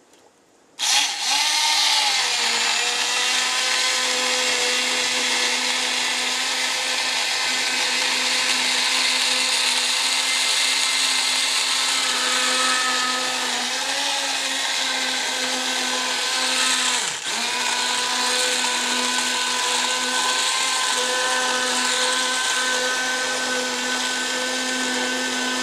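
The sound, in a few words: blender pureeing jalapeno corn chowder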